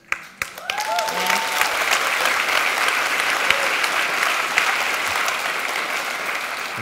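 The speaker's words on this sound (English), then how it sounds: "I'm glad you all clapped" Applause from a seated conference audience at a World Domination Summit talk, a dense, steady wash of clapping that starts abruptly and carries on for several seconds, fairly close and loud, with no voices over it.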